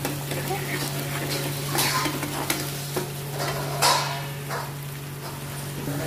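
Onions for whole masoor dal fry in a pan and get stirred, a close sizzling hiss broken by scraping spoon strokes and soft clanks, over a steady low hum.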